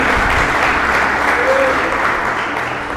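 Steady applause from a church congregation at a Sunday service, a dense continuous clatter of clapping filling the space for a few seconds.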